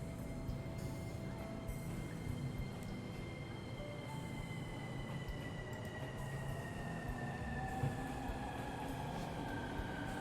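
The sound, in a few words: subway train sounds in video game 13 Sentinels: Aegis Rim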